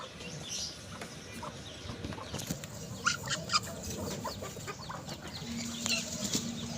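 Hens kept as household poultry, including a mother hen with chicks, cluck and call intermittently at a moderate distance outdoors, with scattered short calls over steady background noise.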